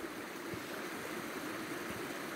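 A stream's current flowing in a steady, soft broadband rush of moving water, faint and continuous without interruption.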